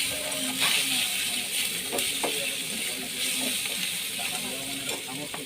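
Soft sizzling of eggplant and prawns frying in a pan as chili powder and turmeric are stirred in, with scraping spatula clicks over a steady hiss, close and continuous.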